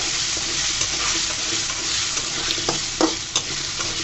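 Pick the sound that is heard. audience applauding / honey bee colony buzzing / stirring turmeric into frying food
stirring turmeric into frying food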